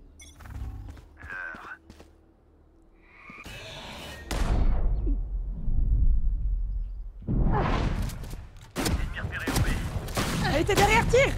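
Gunfire in the Valorant video game comes in several loud, sharp bursts with ringing tails, mixed with mechanical clicks and game sounds, and a voice briefly speaks between shots.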